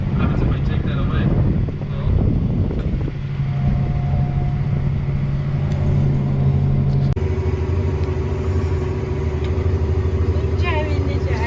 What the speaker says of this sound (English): Driving the tractor.